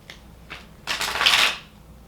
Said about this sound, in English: I'm going to go ahead and do 2 shuffles.